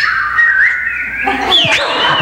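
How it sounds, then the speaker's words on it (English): One person whistles to get someone's attention during a church sermon, a bright, close, warbling whistle in two sliding phrases that sounds almost birdlike. "give me a whistle like to get my attention"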